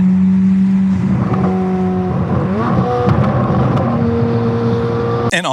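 A 2025 Corvette C8 Z06 with a full titanium Fabspeed exhaust revs and shifts up through rising engine tones, loud and close, ending with a sharp crackle.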